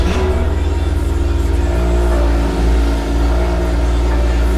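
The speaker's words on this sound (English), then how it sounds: "So now I'm going to start the car and see if it's running fine." A BMW X engine, just fitted with new spark plugs, running steadily at idle close by with a low, even hum and a slight dip in level partway through; no voices.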